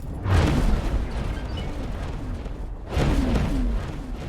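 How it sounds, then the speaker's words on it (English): Two heavy explosions boom in a video game, the first near the start and the second about two and a half seconds later, each a loud broad burst that trails off into a rumbling roar. "Boom. Explosion imminent."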